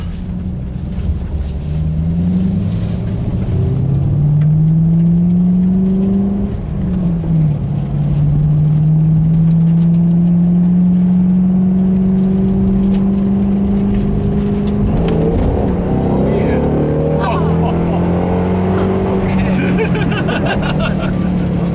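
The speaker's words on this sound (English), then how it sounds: "That was only like 80 mile an hour there, Stefan." A fast, extremely quick car speeds up at around 80 miles per hour, its engine whine rising steadily in pitch through gear changes. The sound is loud and continuous, with road and wind noise beneath it.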